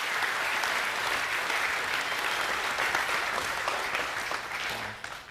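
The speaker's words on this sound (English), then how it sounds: "can you put your hands together for all the work that they do?" A school academic assembly audience applauds steadily and loudly, many hands clapping together in a dense, sustained wash that eases off slightly near the end.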